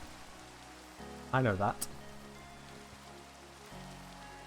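Rain in Minecraft patters as a soft, steady, even hiss. A brief spoken phrase rises over it near the middle.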